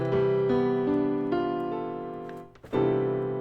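A rich, sustained stack of notes rings out as one big jazz chord, shifting through a few voicings before a brief dip and a fresh strike.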